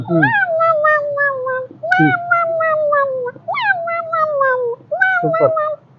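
A voice imitates a cat, giving four drawn-out meows in a row, each rising then sliding down, close and loud.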